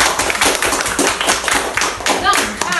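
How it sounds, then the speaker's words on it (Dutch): A small group claps in quick, uneven bursts, close and fairly loud, with someone's voice briefly audible over the clapping. "Een heel groot applaus"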